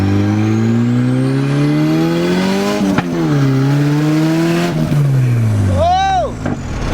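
A turbocharged Nissan 240sx with a budget turbo kit accelerates hard under boost, its engine note climbing loudly and steadily, briefly dipping before rising again, then a sharp whoosh-like pitch sweep near the end.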